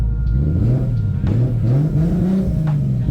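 A Nissan R32 GTR engine running on an EMU Black ECU revs loudly and close up, its pitch rising and falling in several sweeping pulls over a steady idle rumble, with no talking.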